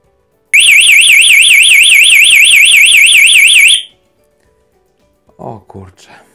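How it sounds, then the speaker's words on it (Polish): A Satel alarm siren wails loudly with a fast warbling tone for about three seconds once its output is grounded, then cuts off abruptly, followed by a few brief spoken words. "w momencie, kiedy podaję masę, zaczyna sygnalizator i hałasować, i migać"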